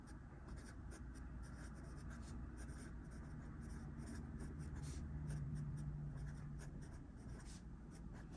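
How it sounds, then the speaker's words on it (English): A fountain pen inked with a shimmer ink scratches steadily across paper, a quiet continuous nib scritching with small strokes and pauses, close and soft with no talking. "I just love writing with this pen."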